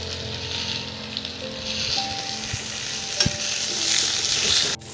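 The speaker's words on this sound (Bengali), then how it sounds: "আলুগুলো বেশ ভালো ভাজা হচ্ছে" Potatoes frying in a pan for an egg curry, a continuous close sizzle with a few utensil clinks and scrapes, ending in a sharp knock.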